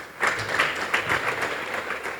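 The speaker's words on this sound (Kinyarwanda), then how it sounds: "Mumere Imana amashyi ngo tuyimukiriyo." Congregation applauding at a church testimony service, a steady wash of many hands clapping together that swells in a few bursts and stays fairly full throughout.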